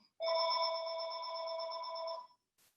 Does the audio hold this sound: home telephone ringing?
yes